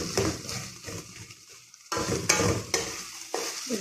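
Ingredients for Bengali bhorta frying and being stirred in a pan, a close sizzle interrupted by repeated scraping strokes of a spoon against the metal, with brief quieter pauses between stirs.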